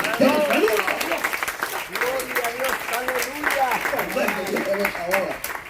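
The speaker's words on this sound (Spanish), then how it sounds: "¿Cuántos le dan un aplauso a la tercera y divina persona de la Trinidad?" A congregation at an evangelical worship gathering applauds, with clapping running under loud cheering and shouting voices that rise and fall across the whole stretch.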